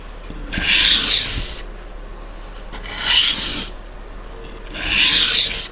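A kitchen knife is drawn across a wet sharpening stone in three long, even rasping strokes from heel to toe, each about a second long and separated by short pauses.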